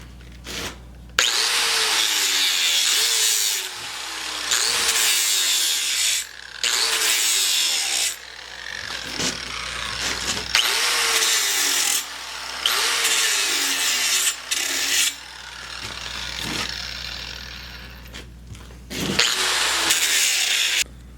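A worn abrasive disc grinds a secondary edge bevel on a forged hatchet blade in loud, close bursts lasting a few seconds each, separated by brief pauses.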